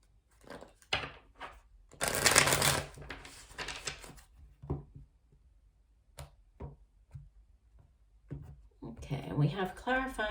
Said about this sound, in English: we'll go ahead and shuffle one last time.